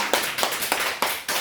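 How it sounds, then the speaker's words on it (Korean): A church congregation claps at a Thanksgiving service, five loud, evenly spaced claps in a steady rhythm, close and with no talk over them. "하나님께 영광의 박수를 올립니다."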